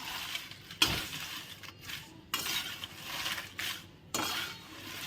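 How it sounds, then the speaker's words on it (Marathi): A utensil scrapes and clinks against a pan while bay leaves roast in oil, the soft stirring strokes coming in irregular bursts at low volume, no speech. "तेल घेणार आहे थोडं आणि तेजपण चला छान भाजून घेऊ"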